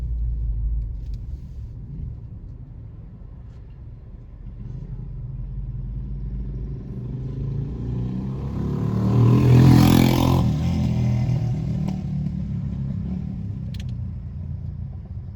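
A car drives along a road in St. Andrew, Jamaica, with a steady low engine rumble and road noise filling the cabin and a brief swell around the middle as it picks up speed or passes something.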